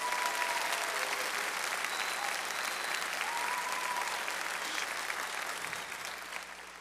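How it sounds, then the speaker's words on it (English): An audience at a choir concert applauds, a dense steady clatter of many hands clapping that holds throughout and tapers slightly toward the end. "Another round of applause for Dylan Parker and Emily Ignashik."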